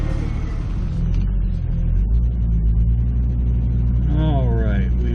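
A 1998 Jeep Cherokee XJ driving, with a steady low engine rumble and road noise filling the whole stretch, plus a rising whine-like sweep near the end.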